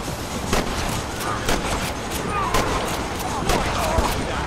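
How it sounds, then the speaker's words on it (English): Repeated gunshots from a Red Dead Redemption shootout crack out at irregular intervals, sharp bursts over a busy bed of game noise and ambience, with someone speaking in between. "Who the fuck shooting me?"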